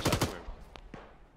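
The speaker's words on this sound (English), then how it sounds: "Someone's shooting us." Gunfire in the military simulation game ARMA during a co-op session: two rapid bursts of shots up front, then a couple of sharper single cracks trailing off, fairly faint overall.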